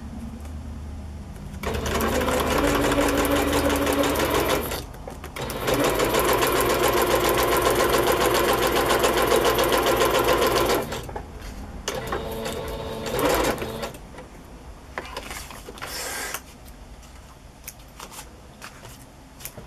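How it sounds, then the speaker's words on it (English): A sewing machine runs a straight stitch through a junk journal page in two long rapid whirring bursts, then shorter stop-start runs and soft handling noises, close up. "I'm just going to use a straight stitch."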